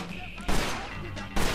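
Gunfire in the Mafia 2 video game, two loud bursts of shots separated by a brief pause, close and punchy over a low game background.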